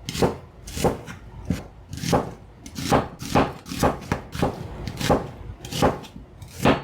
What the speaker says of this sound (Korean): 식감을 생각해서 너무 얇지 않게 적당한 두께로 썰어줍니다.